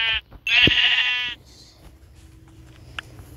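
A sheep bleats in the video game Minecraft, one clear, loud, wavering call of about a second, with a brief quieter bleat just before it and faint game noise afterward.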